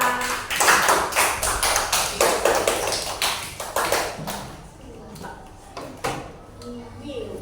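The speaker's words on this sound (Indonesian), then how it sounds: "Beri tepuk tangan buat Laila" A class applauds for a student in an Indonesian teacher-training lesson, with several seconds of dense, close hand claps that thin out to a few scattered claps.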